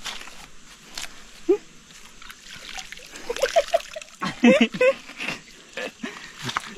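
Hands being washed under running water, with close splashing and trickling in irregular bursts while people talk over it.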